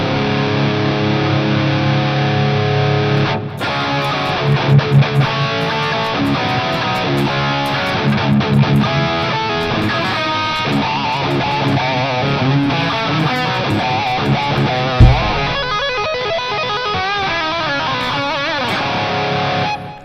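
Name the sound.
drop-tuned electric guitar through distortion effects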